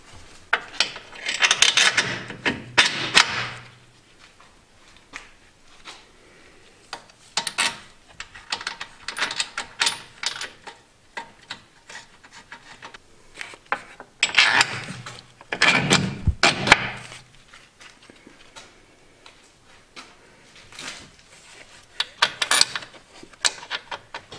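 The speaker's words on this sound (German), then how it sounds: "Als nächsten Schritt schraubt ihr die Lenkung wieder fest. Das sind die zwei Bolzen mit der Kontermutter." A ratchet wrench clicks in repeated bursts as the steering rack bolts with lock nuts are tightened on an Opel Astra, close and mechanical with pauses between strokes.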